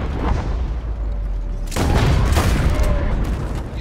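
Gunfire from the Red Dead Redemption 2 video game, loud and close, with a burst of shots and a heavy boom midway, set against a constant rumbling background.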